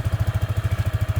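A Yamaha Sniper 155 motorcycle with a low battery, engine just started without a kickstart, idles close by in a fast, even put-put pulse that repeats steadily throughout.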